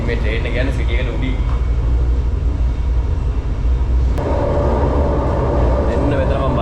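Steady rumble of a train ride in Malaysia, continuous and close, with a shift in tone partway through and a voice talking over it.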